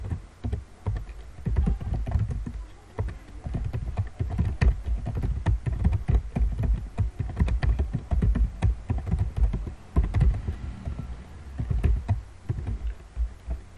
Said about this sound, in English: choose your text editor and type basic or default HTML structure code